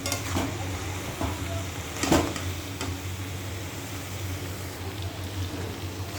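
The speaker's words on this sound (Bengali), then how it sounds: "এরকমভাবে নাড়াচাড়া দিয়ে দিই, বাঁধাকপিটা টেনে যাবে।" Cabbage being stirred in a frying pan, with a steady low sizzle and a few soft scraping knocks of the spoon against the pan, most noticeable around the two-second mark.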